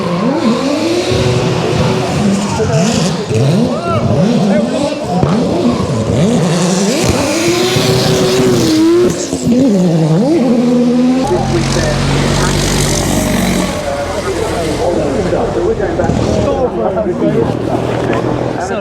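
Race cars climb the Goodwood Festival of Speed hill, engines revving and shifting through gears with rising and falling whines, some tyre squeal, loud and close, while people talk over the noise.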